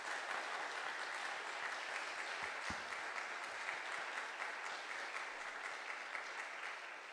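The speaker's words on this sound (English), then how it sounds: "just give a round of applause for these two." Steady applause from a church congregation at a Sunday service, sustained and even for several seconds at moderate distance, with no voices over it.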